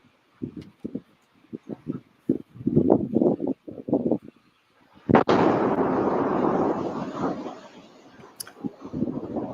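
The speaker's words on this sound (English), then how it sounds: "you can hear the blast in this footage, and it's pretty gnarly" An explosion captured by a home surveillance camera hits as one sudden loud boom. A long rumbling roar follows and slowly fades, after scattered knocks and pops earlier on.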